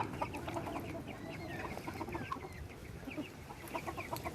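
Silkie chickens cluck near a coop in a backyard setting, a busy chorus of soft, repeated clucks and chirps, close and continuous but quiet.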